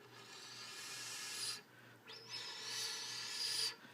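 A rim-blown flute gives a soft, hollow, breathy tone, played quietly in a few sustained airy notes separated by short pauses.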